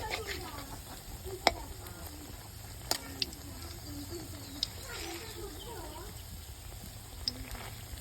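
Bora fritters frying in oil in a village kitchen give a faint, steady sizzle, broken by a few sharp clicks and pops, with birds chirping softly in the background.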